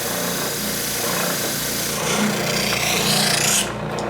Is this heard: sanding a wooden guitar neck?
yes